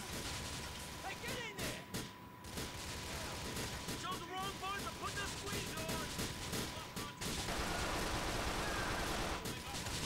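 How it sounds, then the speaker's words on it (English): Police open fire in the game GTA IV: sustained, dense gunshots and bursts of automatic fire carry on for the whole stretch, layered over a voice and other game sounds. "Who is shooting me?"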